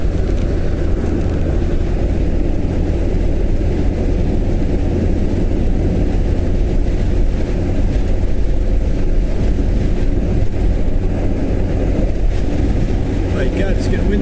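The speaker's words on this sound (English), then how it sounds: "My God, it's getting windy." Strong wind roars steadily into the microphone, a dense low buffeting rumble that never lets up, with a voice faintly underneath.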